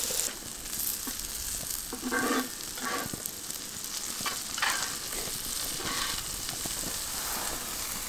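Food sizzles steadily in a pan on an outdoor camp stove while it is stirred, with scraping strokes over the constant frying hiss.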